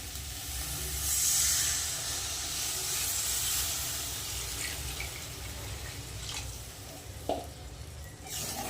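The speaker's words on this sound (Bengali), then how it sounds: "মশলা ভালো করে কষানো হয়ে গেছে এবার জল দিয়ে দেবো" Water poured over hot fried spices for a Bengali fish curry with potatoes, giving a soft continuous hiss and steamy sizzle with a faint clack near the end.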